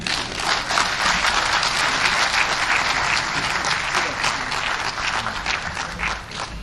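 Town hall audience at a tax reforms meeting in Abuja applauding, loud sustained clapping from a large crowd that holds steady and tapers slightly near the end.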